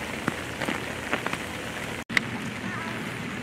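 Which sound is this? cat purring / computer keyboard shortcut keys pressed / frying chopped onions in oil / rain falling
rain falling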